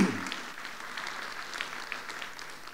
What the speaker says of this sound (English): a big round of applause for all the awesome speakers